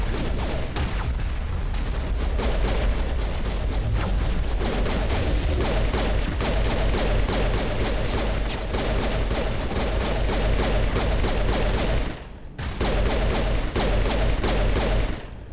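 Pistol fire in the video game Mass Effect Legendary Edition crackles in a dense, rapid stream of loud shots, nearly continuous with a brief pause near the end before resuming.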